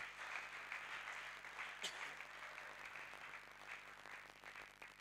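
A church congregation applauds during a prayer service, continuous faint clapping from a crowd at a distance, steady throughout with no voices standing out.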